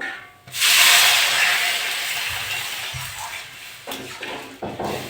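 Water poured into a pan of frying lentils for a bottle gourd dal sets off a sudden loud, broad hiss that holds steady, then gradually eases, with a few clinks of a utensil near the end.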